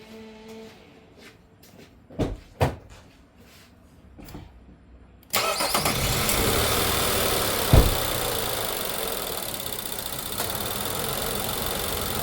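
A few clicks and knocks, then an Infiniti QX60's engine, misfiring from oil consumption, cranks and catches, settling into a loud, steady running rumble.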